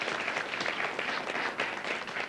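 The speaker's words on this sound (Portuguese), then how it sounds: "Palmas para o Chiquinho" An audience claps for a theatre director and researcher introduced on a Brazilian arts programme, a brief burst of moderate, fairly distant applause with individual claps audible.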